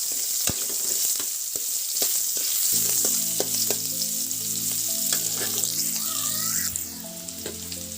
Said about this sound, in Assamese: এইখিনি তেলতে মই পিঁয়াজ দি দিছোঁ